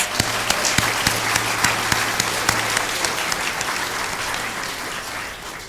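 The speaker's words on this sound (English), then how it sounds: "Don't you think that deserves a round of applause?" An audience at a school board meeting applauds graduating Navy JROTC seniors, a sustained wash of clapping with a few sharp, close individual claps standing out, tapering slightly near the end.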